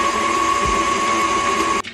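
An electric mixer whirs steadily and loudly through cake batter wet ingredients, including vanilla extract, with a constant motor whine that cuts off abruptly at the end.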